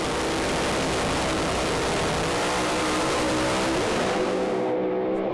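A drag racing car's engine revs hard at the start line, a loud sustained roar with rising pitch that drops away abruptly into near silence at the very end.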